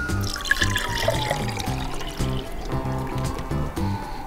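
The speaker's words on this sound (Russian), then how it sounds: "и давайте теперь наливать" Adrenaline energy drink pours from a can into a container, a steady liquid stream gurgling and splashing with a rising fill tone over several seconds, close and clear.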